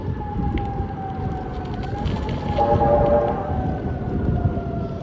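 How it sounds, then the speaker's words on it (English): An ambulance siren wails along a road during an outdoor bike ride, its long sustained tones rising and falling, fairly close and loud over steady wind and traffic rumble. "Ambulance."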